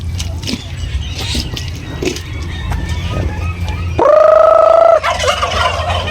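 Turkeys gobble while being fed in a backyard pen. Scattered calls and rustling lead up to one loud, close, sustained gobble that sounds near the end.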